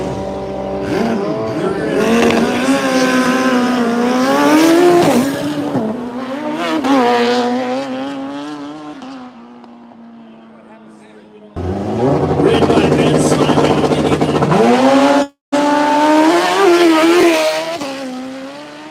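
A Jet 1 Suzuki Impulse drag bike screams down the strip, loud engine howls rising and falling in two long passes with a short cut between, a commentator talking over the racing.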